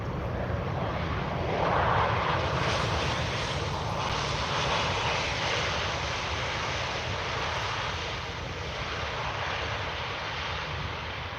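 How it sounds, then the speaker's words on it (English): An EasyJet Airbus A320 airliner landing at Manchester Airport, a steady broadband engine roar that swells early and holds loud throughout, no voices. "Got an EasyJet A320 just landed."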